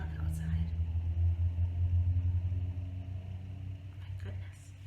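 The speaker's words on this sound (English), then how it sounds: "that's a really loud truck outside" A loud truck passes outside, a heavy low engine rumble that swells and holds steady before easing off, heard from indoors.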